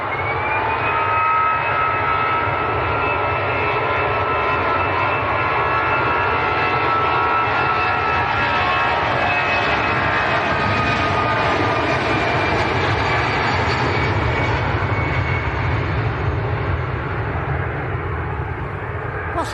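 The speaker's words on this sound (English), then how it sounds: "Lingus to Dublin, A320 lining up full length." An Aer Lingus Airbus A320 jet spools up on the runway at an airport, a loud sustained engine roar with a whining tone that slowly falls, steady and unbroken throughout.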